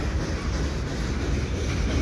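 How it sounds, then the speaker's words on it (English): Freight trains rumbling past a station platform at Dorval in winter, a CN auto rack train and a CP stack train, heard as a steady, loud low roar with continuous rail noise and no clear clacks. "I think these two trains come in when they did."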